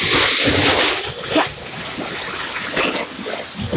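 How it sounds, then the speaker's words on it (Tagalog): A large sea wave surges in toward the shore in heavy surf, a broad rushing wash with bursts of spray near the listener, swelling and breaking again toward the end. "ito malaking alon pumupunta dito sa akin"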